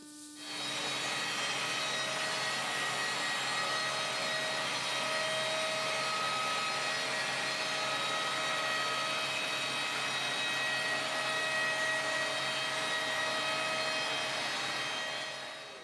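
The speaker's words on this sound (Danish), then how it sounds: "Og Bjarne han er ved at save den sidste" Timber is sawn for five-sided corner posts in a workshop, a continuous, even grinding saw noise that starts abruptly and runs steadily at moderate level for the whole stretch, with no talk.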